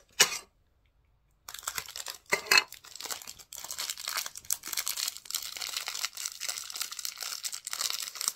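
A Stitch trading card booster pack is torn open close up: a short rip, a pause, then sustained crinkling and tearing of foil wrapping.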